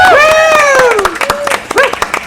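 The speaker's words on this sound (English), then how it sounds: "Round of applause for Holly." At a live paranormal-themed talk, a voice gives a high whooping cheer and the audience breaks into short, scattered clapping that fills the rest of the moment.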